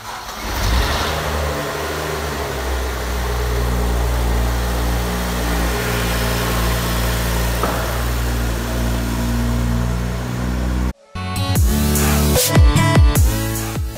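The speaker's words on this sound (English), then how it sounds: "This was our first attempt to start the engine." A BMW E82 135i engine on a first start attempt runs steadily with a low, loud rumble, briefly cuts out, then catches again with uneven revving.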